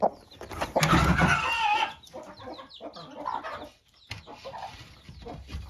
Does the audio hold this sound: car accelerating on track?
no